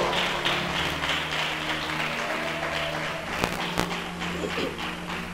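Church congregation applauding together after a sermon call, a steady dense wash of clapping with a couple of sharper claps standing out, filling the space with no voices on top.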